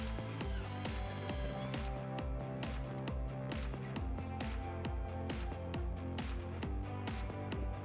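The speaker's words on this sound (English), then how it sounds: "we're gonna go ahead and insert our first screw so that we can get our bracket nice and straight" Screw driven into the rear bumper fascia of a 2008 Hyundai Sonata to hold a wiring bracket, a rapid steady ratcheting, clicking mechanical rattle from a close power tool that runs without pause throughout.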